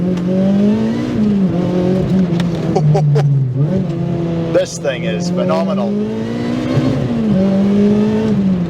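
A supercharged K24 engine in a DC5 Integra Type R drones and revs, pitch rising and dropping through gear changes and braking, with someone speaking excitedly over it.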